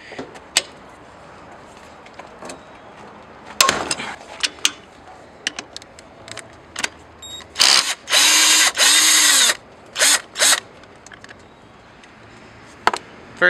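A power tool loosens an engine mount nut on a 2004–2013 Mazda 3, firing in several short bursts and one longer whirring run amid scattered clicks and clanks, close and sharp.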